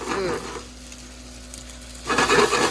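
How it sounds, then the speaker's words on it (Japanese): Noodles fry in an IH frying pan as it is shaken back and forth, giving bursts of loud, close sizzling and scraping at the start and end with a quieter stretch between. "You need to move the pan just like this."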